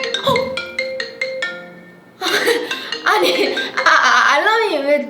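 Phone alarm ringing in a series of repeated electronic tones, then cut off as people talk and laugh loudly over it.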